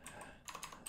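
Quick, light clicks of a computer keyboard being typed on, a short run of keystrokes heard close up and faint, with no talking.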